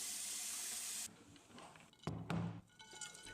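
Tap water gushes into a bowl being filled for an ice-water face bath, a steady hiss that cuts off after about a second, followed by splashes and sloshing.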